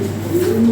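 A pigeon kept for sale gives a brief, low, throaty coo, close and fairly loud.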